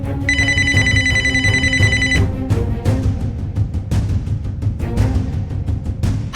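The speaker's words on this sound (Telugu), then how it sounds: "రాజ్యలక్ష్మి గారు ఎందుకు కాల్ చేస్తున్నారు?" A telephone rings with an incoming call, a bright repeating electronic ring tone playing for about two seconds over background music, close and clear.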